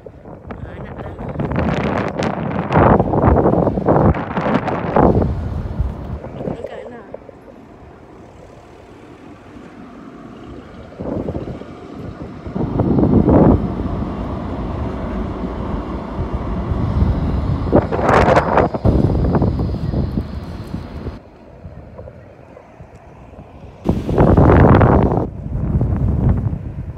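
Wind buffeting a microphone on a walking tour through the city of Gothenburg, Sweden, arriving in loud gusts that come and go across the clip, with people talking in between.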